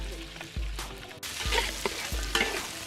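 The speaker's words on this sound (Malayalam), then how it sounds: "കുറച്ച് വെളിച്ചെണ്ണ ഒഴിച്ച് അതൊന്ന് തിളയ്ക്കുമ്പോൾ നമ്മുടെ കൊത്തി അരിഞ്ഞ് വെച്ചിരിക്കുന്ന വെളുത്തുള്ളി ഇഞ്ചി പീസുകൾ അങ്ങോട്ട് ചേർത്ത് ഒന്ന് വഴറ്റിയെടുക്കാം" Chopped garlic and ginger sizzle in coconut oil in an uruli over a wood stove, a steady frying hiss broken by several dull stirring knocks from a spoon against the pan, close and fairly loud.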